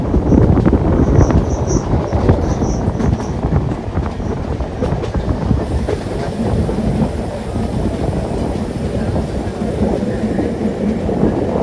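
Kollam–Thiruvananthapuram passenger train heard from inside while running, loud steady rumble with rhythmic clickety-clack of wheels over rail joints throughout.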